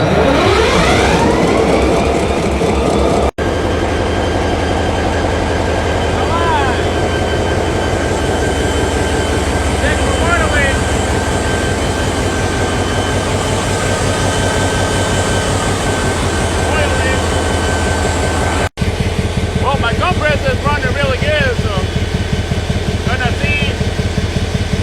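A locomotive diesel engine starting up and running, a loud continuous rumble with a steady beat and brief dropouts, heard close with no talk over it.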